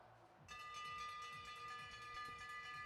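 A bell rung to mark the final laps of a bike race, a sustained ringing tone that starts suddenly and keeps going over the low rumble of the track and crowd.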